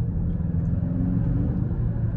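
A 2022 Kia Stinger GT-Line in sport mode with manual shifting accelerates, giving a steady low engine rumble with road noise heard from inside the cabin, without talk.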